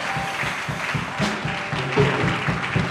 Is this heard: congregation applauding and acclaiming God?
yes